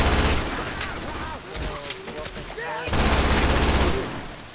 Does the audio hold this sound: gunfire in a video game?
yes